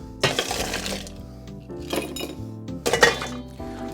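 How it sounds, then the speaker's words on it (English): Fresh ice being added to a blueberry mint gin and tonic cocktail, a series of hard clinks and clatters against the tin in three close bursts, near and fairly loud with no talking. "We're gonna ice this drink"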